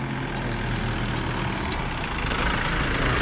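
A vehicle idles steadily on a hill road, its engine a continuous low rumble close by with no clear arrival, loud and unbroken for the whole stretch.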